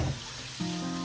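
Water from a kitchen sink tap runs steadily into a rice cooker pot, a continuous close splashing rush whose pitch rises as the pot fills, with no talk.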